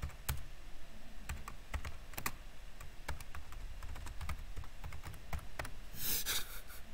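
Keys clatter on a computer keyboard in fast, irregular bursts, quiet and close, with a low background hum and no speech.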